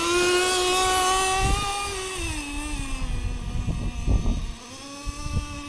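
A 1/10 scale nitro RC car engine buzzes with a high, wavering whine that dips and rises in pitch, then turns choppy and sputtering toward the end with uneven bursts, heard up close without voices.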